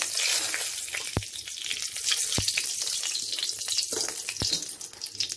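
A spoonful of ghee melts into hot oil left from frying potatoes in a pan, giving a steady close sizzle and crackle with a few sharp pops spaced through it.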